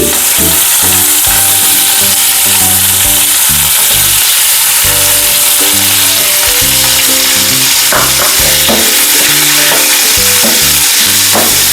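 Raw onions fry in a pan for a Bengali chicken kasha, giving a loud, continuous sizzle with repeated scraping strokes of a stirring spoon and no talking.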